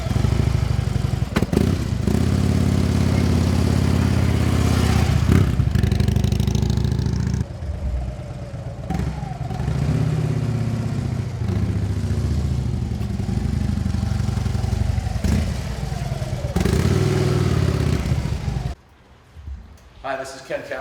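A 2010 Harley-Davidson Electra Glide Ultra Classic touring motorcycle runs with a loud, steady low rumble, a few revs and clatter, then cuts out near the end as someone talks over it.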